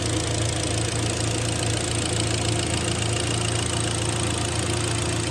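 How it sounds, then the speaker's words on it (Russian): A rebuilt car engine idles after its overhaul, a loud, steady mechanical drone with an even low hum and rapid ticking pulse running unchanged throughout, with no voices. "Мотор притирается. Работать все будет тише и тише."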